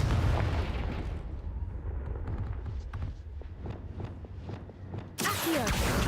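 A Confringo fire spell in the Hogwarts Legacy video game, a loud rumbling blast with a crackling tail and a series of short thuds, ending in a sudden bright burst.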